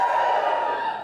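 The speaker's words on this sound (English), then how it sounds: "Is it too early for a woo?" A comedy club crowd lets out a brief collective woo, a sustained loud cheer of many voices lasting about a second.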